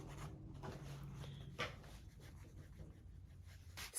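Pen writing by hand on a junk journal page, quiet scratchy strokes and soft rubbing close up, with one sharper scrape partway through.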